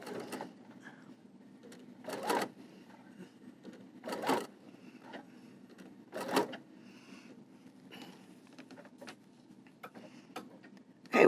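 A sewing machine stitches along the edge of quilted fabric for small zipper bags, running in short close bursts about every two seconds with quiet gaps between.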